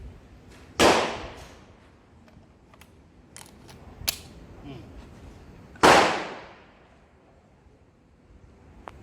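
Two sharp, loud pistol shots fired about five seconds apart, each with a quick decaying echo, separated by quieter clicks and handling noises.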